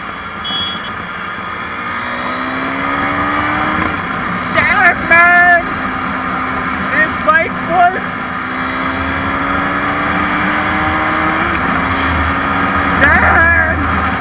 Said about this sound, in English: Expected the 390 had an awesome acceleration like this.